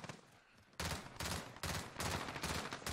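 Gunfire in a multiplayer shooter game: after a quieter start, four or five loud bursts of shots arrive in quick succession, each a broad cracking blast, close and dominant with no talk over them.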